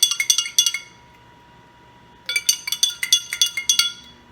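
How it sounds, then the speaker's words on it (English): A metal spoon clinks rapidly against a glass while stirring baking soda into liquid, two bursts of quick ringing taps separated by a pause, close and alone. "we are going to stir in 1 teaspoonful of baking soda"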